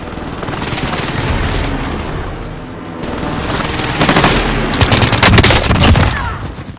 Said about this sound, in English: Target bomb! Send it! This is Phoenix 3. Strike inbound.